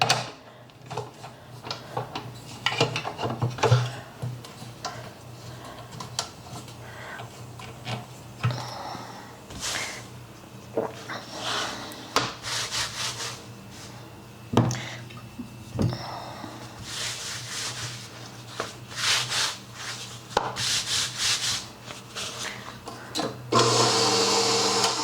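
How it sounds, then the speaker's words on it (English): Homemade pasta dough being fed through a pasta machine's fettuccine cutting roller, giving intermittent whirring and rumbling bursts with scattered clicks and knocks, mostly close and moderately loud. "I'm going to start off with the fettuccine roller"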